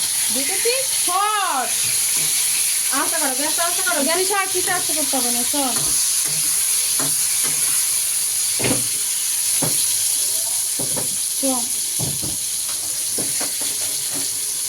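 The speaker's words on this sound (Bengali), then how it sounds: "ভাজ রে ঝিঙেটা" Ridge gourd fries and is stirred in a pan in a home kitchen. A steady hiss and sizzle runs under several people's conversation, with occasional utensil scrapes and knocks.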